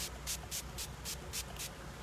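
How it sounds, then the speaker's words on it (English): Citrus-scented makeup setting spray is spritzed from a short distance, giving about seven quick, evenly spaced airy hissing bursts in a steady rhythm over a constant background. "Okay, so kita spray. Spray jangan dekat sangat sayang, macam ni."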